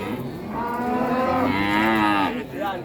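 A cow moos loudly and close by at a cattle market, one long drawn-out low call with a rising and falling pitch over steady barn background noise.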